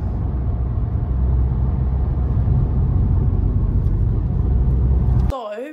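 A car drives along a rural road, heard as a steady, loud interior rumble and road noise that runs unbroken, then drops out abruptly just before the end.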